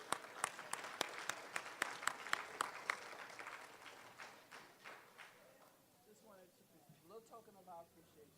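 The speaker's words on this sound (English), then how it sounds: "Clap your hands." An audience at a scholarship foundation event claps hands in sharp, fairly evenly spaced claps that thin out and fade, then people start talking.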